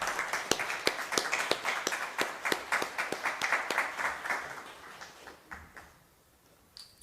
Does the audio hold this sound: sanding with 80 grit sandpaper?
no